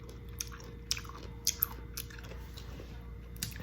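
Close, crisp bites and crunchy chewing of sour Thai mango come in sporadic bursts over a quiet background.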